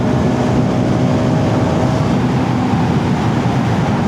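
A 2025 Hero Xtreme 250R motorcycle engine drones steadily while riding, a loud, constant low rumble mixed with road and wind noise, no speech.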